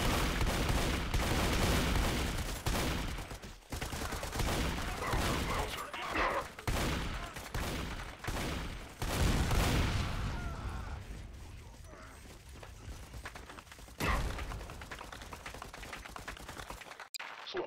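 Dense, continuous gunfire from a Garry's Mod battle with automatic bursts and overlapping shots, loud and sustained throughout with brief dips before it thins out near the end.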